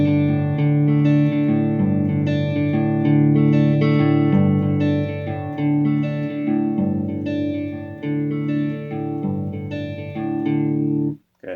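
Electric guitar riff with bass notes added, returning to an A; a steady, bright repeated pattern played close for several bars, with effects, then cut off abruptly.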